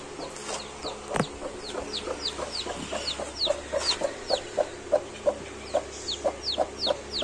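An Aseel hen clucks with her chicks, a regular run of short soft clucks repeating about twice a second, with thin high peeping from the chicks layered over the top, close and moderately loud.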